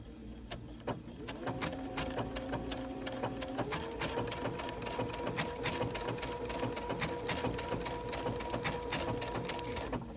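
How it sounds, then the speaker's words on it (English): A sewing machine stitches an overcast zigzag along a raw fabric edge, a close, steady mechanical whir with fast repeating needle clicks that picks up speed after a few seconds and holds on alone. "So I'm gonna start sewing, and I'm gonna let it stitch for a little bit"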